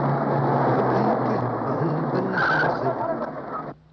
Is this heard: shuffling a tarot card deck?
no